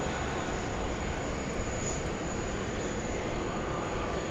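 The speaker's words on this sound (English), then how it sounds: "The Jetstar A320 about to roll now" Jetstar Airbus A320 beginning its takeoff roll on runway 16 right at Sydney Airport, a steady broadband jet roar held at an even, moderately distant level throughout with no voices.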